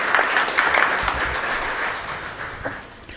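Congregation clapping at the close of a Mass in a chapel, a broad wash of steady applause at moderate distance that gradually thins out toward the end.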